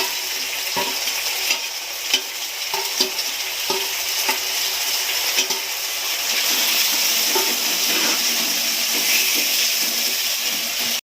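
Chili paste is added to a rohu fish curry and fried, a continuous close sizzle with regular scraping and tapping of a spoon as it is stirred, growing slightly louder and wetter toward the end.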